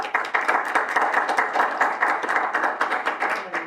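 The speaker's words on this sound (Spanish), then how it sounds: "Muy bien, pues un aplauso, por favor." Audience applause at a university talk, a steady burst of many hands clapping close and even for several seconds, with no speech.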